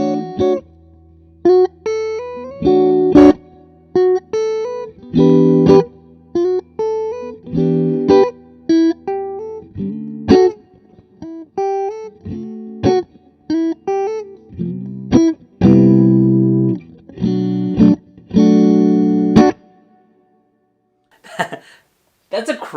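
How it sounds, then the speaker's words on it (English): Electric guitar notes and chords ring out through an Orange Super Crush 100 amp, sustained with a wash of reverb, alternating with short pauses and a few quick strums. "let's try it with some reverb on"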